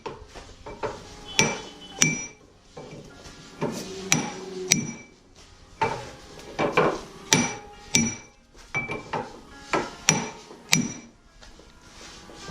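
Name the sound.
hammering out a lower ball joint on a 2004 Honda Accord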